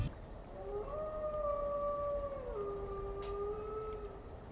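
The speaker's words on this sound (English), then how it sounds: "If the player stands by this jungle area, one can hear monkeys and wolves howling." Wolves howl in a jungle area of Halo Infinite, a long rising and falling wavering howl with overlapping tones over a steady ambient bed, no voices.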